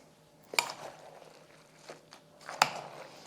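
A spoon clinks against a bowl while stirring taffy apple salad with whipped topping, two sharp metallic taps over soft scraping and faint swishing, close and quiet.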